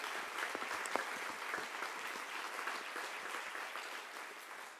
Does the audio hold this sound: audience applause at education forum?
yes